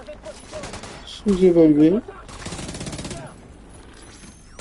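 Bursts of gunfire ring out in The Division 2, a third-person shooter set in an American history museum. A loud, rapid volley comes in the middle, with lighter shots around it, and someone talks over parts of it.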